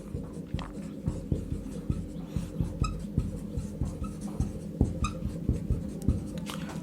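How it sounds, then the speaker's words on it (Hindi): Chalk or marker writing on a classroom board during a chemistry lecture, a run of close, rhythmic scratchy taps and strokes over a steady low room hum, with no voice. "एक और एग्जांपल लिखता हूँ मैं"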